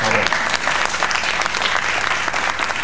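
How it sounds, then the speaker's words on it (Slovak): Continuous loud applause and clapping, dense and steady throughout the short stretch, with no break. "Potlesk by som poprosil."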